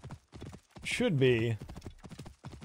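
Horse hooves clop steadily on a road in the video game Assassin's Creed Origins while someone talks over them, and a horse whinnies once in the middle.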